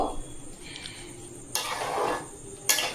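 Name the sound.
stirring mango pickle with spices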